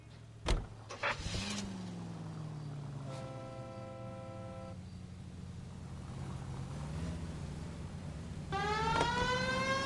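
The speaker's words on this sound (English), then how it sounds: "We have a siren." A police car siren in the video game L.A. Noire wails with rising and falling harmonic tones amid a steady engine drone, with a brief horn blare near the start and siren sweeps returning at the end.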